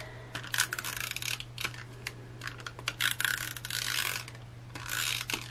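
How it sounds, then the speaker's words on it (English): An adhesive tape runner is pressed along a sticker book page, giving bursts of dry clicking and ratcheting rasps in short strokes over a low steady hum, close and fairly quiet. "lots of tape runner"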